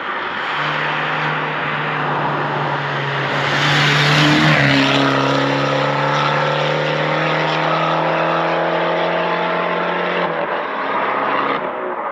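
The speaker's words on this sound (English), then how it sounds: "You can tell it's got an exhaust on it, or like a Decat, obviously." A Fiat 595 Abarth with a decat exhaust revs hard with a raspy, crackling note, climbing through the gears with a brief shift midway, loud and close throughout.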